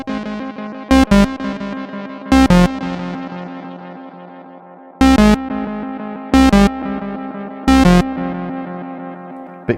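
Guitar notes run through a Boss Space Echo RE-202 tape echo on its aged tape setting, struck chords with repeating echoes that blur and trail off, slightly dirty and dull, played alone without talk.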